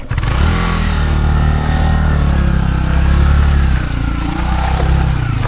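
A 2025 Yezdi Adventure motorcycle on a moderate off-road trail gives a loud, close engine roar that holds steady and swells slightly mid-clip under acceleration, with no voices.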